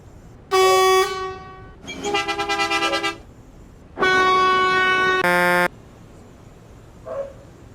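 A bus horn in the Bus Simulator Ultimate game blares in several loud bursts: a one-second tone, a warbling honk, then a longer two-part blast, each clean and alone with quiet gaps between.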